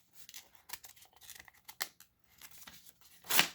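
A taped-down mail package being opened, quiet snips and tearing of tape and cardboard in short bursts, ending in a louder rip near the end.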